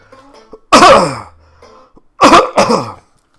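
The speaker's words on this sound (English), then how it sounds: "I'm sorry for coughing in your ear." Two bursts of harsh, close coughing, a single cough and then a quick double cough, with quiet room sound in between.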